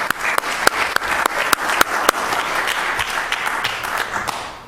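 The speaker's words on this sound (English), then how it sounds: "Want to give yourselves a round of applause?" Residents at a city council meeting get a round of applause, a few sharp individual claps standing out from steady crowd clapping that holds for several seconds, then tapers off.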